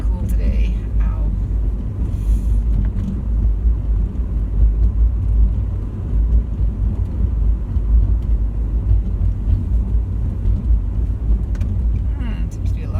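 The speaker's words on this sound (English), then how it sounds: "Seems to be a lot of traffic here." Road traffic drones in a steady, loud rumble from engines and tyres, continuous throughout with faint passing swells and a few brief voice fragments over it.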